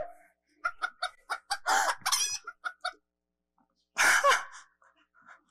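A chicken clucks close by in a quick series of short, sharp notes. It then gives a couple of louder squawking bursts with quiet pauses between them, and no voices are heard.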